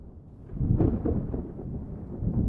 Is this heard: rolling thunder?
yes